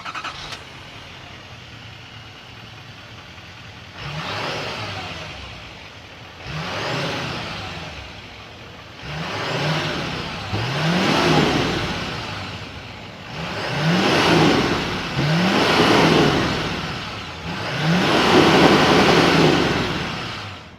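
A 2025 GMC Sierra 2500 Denali Ultimate heavy-duty pickup with a 6.6-liter Duramax diesel idles with a low rumble, then revs repeatedly in surging bursts that rise and fall, close and loud, with no talking.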